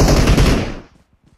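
Rapid automatic gunfire in PUBG Mobile, a loud close burst of shots that stops abruptly and leaves near silence.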